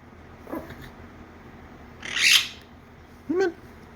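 Quaker parrots let out a few short, separate calls, one loud harsh squawk in the middle and a quick chirp at the end, close by with quiet gaps between.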